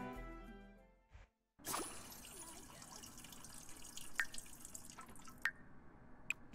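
Water from a shower in the video game The Sims 4 patters and drips quietly, with a few sharp, distinct drip splashes standing out after a brief burst of game music fades.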